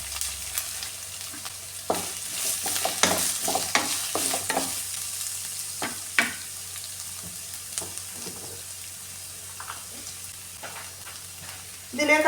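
Ginger, curry leaves, green chilli and onion frying in a pan for cabbage thoran, a crackling sizzle with frequent spatula scrapes and stirring knocks, louder early and easing off toward the end.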